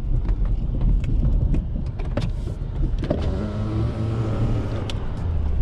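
A 2019 Ford F350 Powerstroke truck drives across a snowy frozen lake during a heavy snowstorm, its engine rumbling low and steady from inside the cab. A brief whir like a power window runs near the end.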